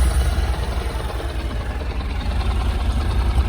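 A Honda NC700X motorcycle with its stock exhaust idles close by, a steady low throbbing rumble with no voices.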